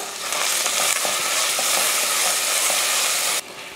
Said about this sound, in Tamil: இஞ்சி பூண்டு பேஸ்ட்டு சேர்த்து நல்லா வதக்கி விட்டுறலாம்.